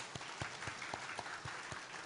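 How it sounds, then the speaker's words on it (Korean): During a Wednesday night worship service at a Korean church, the congregation claps along in a steady rhythmic beat, soft and somewhat distant, with individual hand claps distinctly audible. "그럼 박수합시다."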